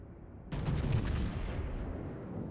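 A Montana battleship's main guns firing in World of Warships, one heavy booming salvo that erupts suddenly and rolls away into a long fading rumble, with no voice over it.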